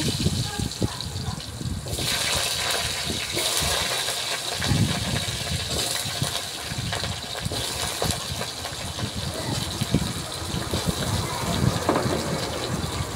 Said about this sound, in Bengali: ফোড়নটা ভাজা হয়ে গেছে, আলুটা দিয়ে দিচ্ছি।